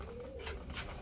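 A Rasgolla pigeon gives a brief low coo, faint against a hissing, noisy background.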